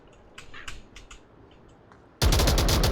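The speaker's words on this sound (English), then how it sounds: "Those gunshots are very loud in my ears." Gunfire during a VR shooter match, a few scattered shots early followed by a sudden, very loud sustained burst of rapid automatic fire that fills the rest of the moment.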